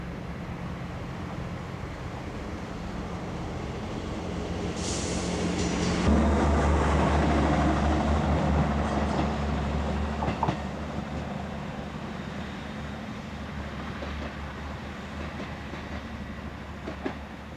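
A British Rail diesel multiple unit, built in Derby with one Cummins or Perkins diesel per car, runs past. The engine drone builds to a peak midway with rhythmic wheel clatter, then fades to a steady distant rumble.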